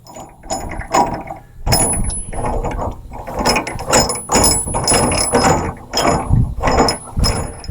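A Rotopax fuel pack extension being screwed into its pack mount, giving repeated grinding, ratcheting plastic turns in uneven bursts close up, with no talk.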